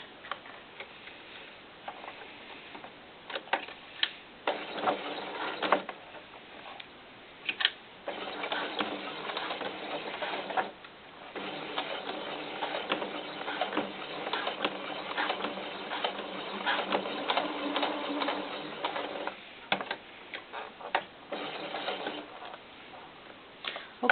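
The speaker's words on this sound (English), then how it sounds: "we're going to just go with a straight stitch, and we're going to sew across the crotch." A sewing machine runs a straight stitch across doll underwear, its quiet needle clatter coming in short, rhythmic bursts separated by brief pauses.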